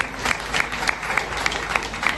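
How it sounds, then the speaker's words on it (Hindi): An audience at a retirement function claps loudly and continuously, a close, full burst of applause with a faint regular pulse running through it for the whole short stretch. "एक बार मैं चाहता हूँ कि आप लोग अपने लिए तालियां बजाइए"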